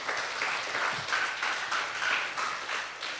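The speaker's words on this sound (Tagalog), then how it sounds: "ituloy natin palakpak sa Panginoon." A church congregation applauds in praise, a steady, dense wash of clapping with rhythmic swells that carries evenly through the clip at moderate distance, with no talk over it.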